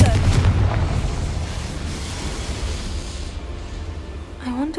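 The Confringo blasting spell explodes in Hogwarts Legacy with a heavy burst that rolls into a long rumbling decay, followed by a brief voice near the end.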